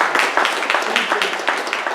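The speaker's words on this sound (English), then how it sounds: "Give her a round of applause." Short burst of audience applause at a gathering at a housing complex, with fairly close, irregular individual claps that stay at a moderate level for a couple of seconds.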